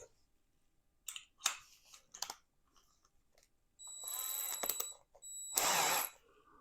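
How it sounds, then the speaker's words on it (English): Drill motor fitted with a sinew puller, heard first as a few short clicking bursts, then two sustained high whirring runs of about a second each, near and fairly loud, with quiet gaps between. "load up the sinew puller in my drill motor"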